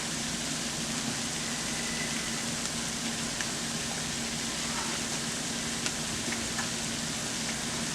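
A seasoned gravy mixture with lemon pepper seasoning, onion powder and salt fries in a pan, a steady, even sizzle running unbroken from start to finish with no voices.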